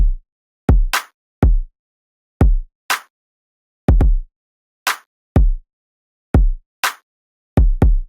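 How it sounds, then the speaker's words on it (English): A simple electronic beat of punchy, deep kick drum hits alternating with sharp, bright claps, a clean repeating pattern with silence between hits and no other sounds. "So that's the kick and the snare, or should I say a clap. It's a pretty simple pattern"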